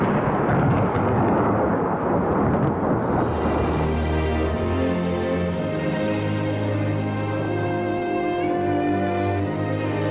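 Thunder from a storm in the Rocky Mountains rolls in a long, deep, loud rumble that swells and slowly fades into a lower sustained drone, with no voices.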